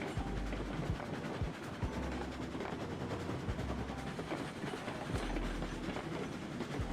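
A train rolls steadily along the track in the Railroad Online game, a continuous rumble with a rhythmic clickety-clack of wheels over rail joints and low thumps recurring every second or so.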